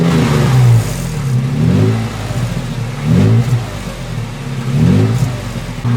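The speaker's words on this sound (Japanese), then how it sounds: "せっかくだからさ、マフラー音。" Toyota FJ Cruiser exhaust rumbling as the engine is revved, a deep, torquey large-displacement note rising and falling in three repeated surges, loud and close with no talk over it.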